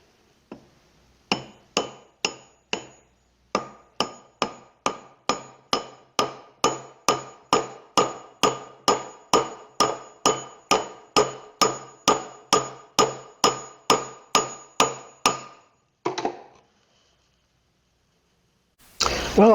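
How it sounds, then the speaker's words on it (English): A hammer drives a wooden wedge into the slot of a new hammer handle, about thirty sharp, evenly spaced strikes in a steady rhythm, close and loud, with a short pause early on and a few final knocks after a gap. "let's go ahead and drive this wedge in"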